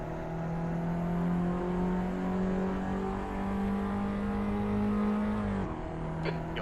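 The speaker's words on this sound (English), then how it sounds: "So really get on the accelerator going down this straightaway." Race car engine in the Assetto Corsa driving game holds a steady, loud droning pitch as it accelerates down a straightaway, with continuous whirring before a brief gear-change dip near the end.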